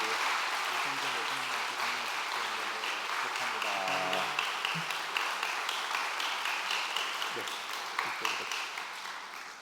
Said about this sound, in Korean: 축복해 박수